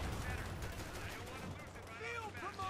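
Rifle fire crackles in a war video game, with riflemen trading repeated sharp shots in irregular bursts under steady background noise while a voice speaks over it.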